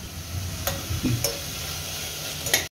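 Spinach and pumpkin frying in a pan, a continuous close sizzle broken by a few quick spatula clicks and stirring scrapes, no speech.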